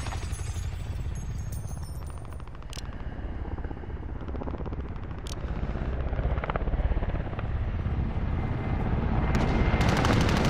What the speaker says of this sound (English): Enemy attack chopper is in the AO.